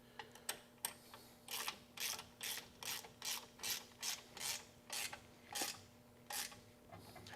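Rapid bursts of a hand ratchet tightening 9/16 nuts on the U-bolts of a steerable cultivator during assembly, about a dozen clicking strokes in a steady rhythm, close and fairly quiet with no talking.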